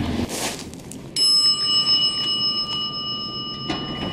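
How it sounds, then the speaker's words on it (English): A vintage Otis elevator in a Montreal residential building sounds its loud, sustained bell, a steady ringing tone that starts abruptly and holds for about two and a half seconds before cutting off, heard close with no talk. "That's a loud bell."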